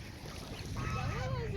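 A group of ducks follows people walking back along a path, with scattered quacking calls rising near the end over steady outdoor background noise.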